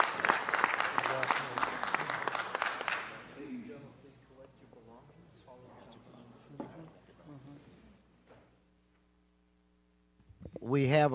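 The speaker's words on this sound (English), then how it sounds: "Let's give the doctor one more round of applause." An audience at a city council meeting claps loudly for a doctor for about three seconds. The applause then cuts off and a person speaks quietly, followed by a short silence and louder talk.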